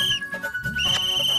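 A whistle shrilled in short sharp blasts, a pure piercing tone that breaks off and returns with a warbling trill, loud and close with no talking.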